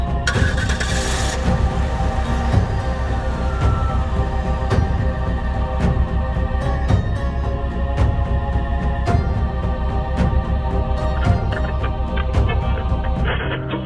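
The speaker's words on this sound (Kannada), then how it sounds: "ಗಾಡಿ ಸ್ಟಾರ್ಟ್ ಮಾಡೋ" A vehicle engine starts in a Kannada short film, then runs steadily at a loud idle with a sustained rumble and periodic clicks and rattles. No one speaks over it.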